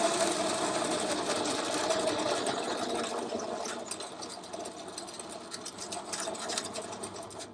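A winch on a quad bike hauls a Valiant AP6 Mopar one-tonne ute onto a trailer with a doubled line, giving a steady, loud mechanical whir that drones on without a break.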